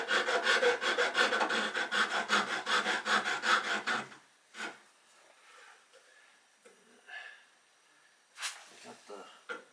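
A fine file worked back and forth to cut a groove into a wooden branch for a slingshot, a fast, even run of close rasping strokes that stops halfway, followed by a few faint scrapes and someone talking.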